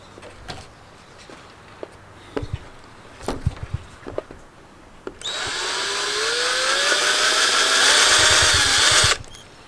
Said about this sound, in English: I might want to drill a hole for these as well.